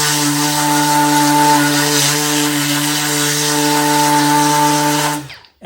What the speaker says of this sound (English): This palm sander fits right in the palm of my